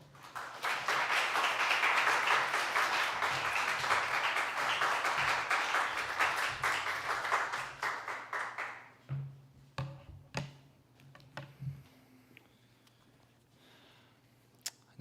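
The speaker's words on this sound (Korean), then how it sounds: "목사님 나올 때 박수로 환영하겠습니다" A church congregation applauds to welcome a guest preacher at a Sunday worship service, dense sustained clapping for about nine seconds, then thinning to a few scattered claps.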